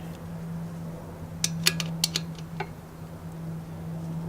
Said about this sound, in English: I will turn it just a little bit more on the crescent wrench